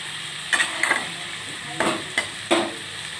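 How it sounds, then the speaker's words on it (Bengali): Chicken mince and tomato are stirred and sautéed in a pan for khichuri, with five separate scraping spatula strokes over a faint, steady sizzle and no talking. "ভালো করে কষিয়ে নিচ্ছি, একটু কষানো।"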